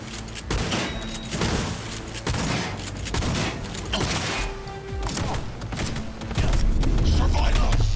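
Shotgun blasts and dense gunfire in the video game Cyberpunk 2077, a run of loud, booming shots with mechanical clicks and creaks between them, steady and close, with voices mixed into the battle noise.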